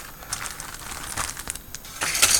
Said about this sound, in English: Right, we get a plastic bag,